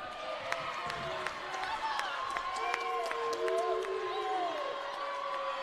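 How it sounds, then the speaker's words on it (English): Bruin fans at an 8th grade girls basketball tournament game between Blackford and Frankton cheer and clap in a gym, a moderate crowd roar under a commentator's voice, with squeaking shoes and sharp bounces throughout. "Bruin fans cheering Kaylee on."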